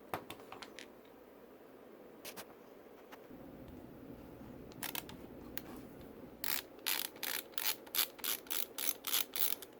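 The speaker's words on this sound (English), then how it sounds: "I got this handy dandy ratcheting screwdriver with the Torx bit that I put in there" A ratcheting screwdriver fitted with a Torx bit works on screws in the grips of a .45 Commander 1911 pistol, giving sparse clicks at first, then a fast, steady run of close, crisp ratchet clicks.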